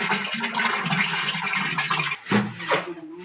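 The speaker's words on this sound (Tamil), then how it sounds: "இப்போ மீதிக்கு வந்து தண்ணி ஊற்றி கரைக்கிறோம் சாணியை நல்லா" Water poured into a container and stirred to dissolve cow dung mixed with cow urine, a steady gushing splash and sloshing throughout, with a couple of brief heavier swirls near the end.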